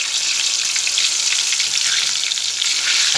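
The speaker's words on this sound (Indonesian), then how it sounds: "Aku goreng tempe anget-anget ini enak." Tempeh frying in hot oil gives a loud, continuous sizzle that crackles evenly from start to finish, close up and with no talking.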